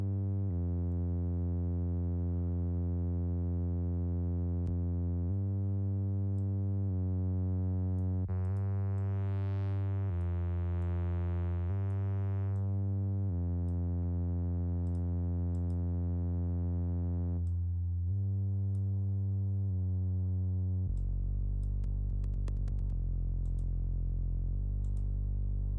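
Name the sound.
synthesizer instrument track with added distortion, dubstep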